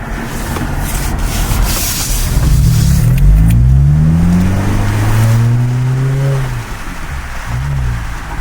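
A loud, raspy straight-piped Toyota Camry exhaust drones close by, rising in pitch as the car accelerates, then settling back to a rough rumble.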